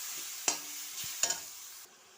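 Spicy masala for a fish curry being stirred in a pan, a faint steady sizzle broken by two or three sharp scrapes of a spoon, close and quiet.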